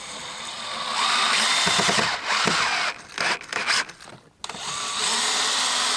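Power drill driving screws into reused joist boards while building a duck coop door, with bursts of whirring broken by short pauses, close and fairly loud.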